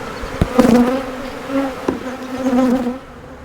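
Honeybees buzz at an opened beehive, with a loud, close drone that rises and falls as individual bees fly past, plus a few sharp knocks and scrapes from the hive boxes.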